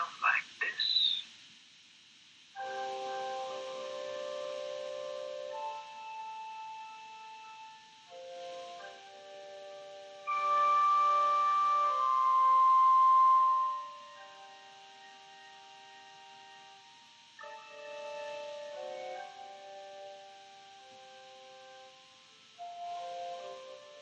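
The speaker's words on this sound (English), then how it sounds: "If you are hearing organ music" Sustained organ chords from the video game Kentucky Route Zero play softly, shifting between held tones with pauses, fairly faint and alone.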